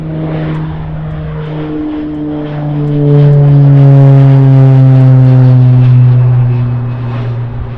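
Large aircraft doing a touch and go at SDF airport, a loud droning engine roar with falling pitch that swells and holds as it passes close, with no talk.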